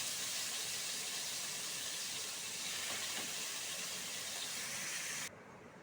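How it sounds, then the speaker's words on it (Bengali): Pieces of meat frying in a pan give a steady, loud, hissing sizzle that holds evenly for several seconds and then drops suddenly to a quieter sizzle near the end. "এবার এক এক করে মাংসগুলো দিয়ে নিই, মাংসগুলো আমি ভেজে নেব"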